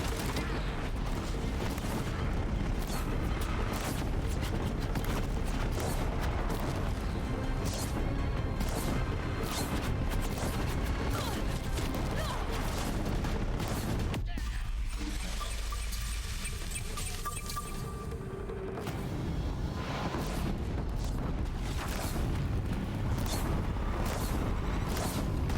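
In Horizon Zero Dawn, fire attacks pound a machine in a loud, continuous barrage of crashing impacts and crackling bursts, with a brief thinner lull midway before the clatter builds again.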